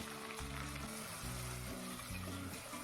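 Onion and tomato frying in oil for a veg biryani: a constant, fairly quiet crackling sizzle runs throughout beneath a looping music bed.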